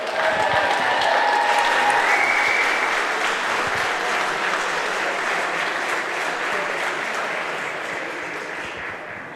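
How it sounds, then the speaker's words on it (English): Large crowd at Croke Park applauding after an All-Ireland handball final won by Cork and Galway, a broad sustained roar of clapping that slowly fades across the stretch, with no speech over it. "give them another big round of applause"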